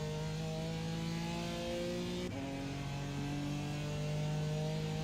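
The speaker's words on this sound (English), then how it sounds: "6th gear hitting the rev limiter." A car in sixth gear holds flat-out against the rev limiter on a long straight during a six-hour Nordschleife race in a racing game, with a steady, droning engine tone and a brief stutter midway, no talk.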